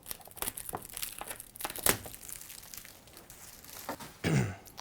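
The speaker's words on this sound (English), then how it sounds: "just cut the plastic." Scissors cut and pull away plastic packaging wrap from a Carvey carving machine, giving scattered crinkles, snips and rustles, with a louder crumpling burst near the end.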